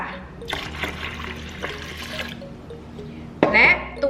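Water is poured into a Thai coconut pancake batter mixture, a trickling, splashing flow under a woman's speech that swells into a louder gush near the end.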